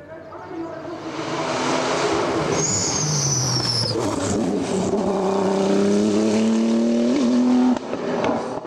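Porsche 991 GT3 Cup race car on a hill climb course at Bagnols-Sabran, its loud engine revving and climbing through gears with rising and falling pitch, shifting sharply and passing close, with a faint voice underneath.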